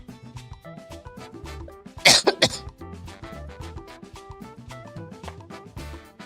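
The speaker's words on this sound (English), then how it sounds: "Still dealing with the cough" A person with a lingering cough gives a short burst of two or three loud coughs close to the mic, heard alone over quiet background music.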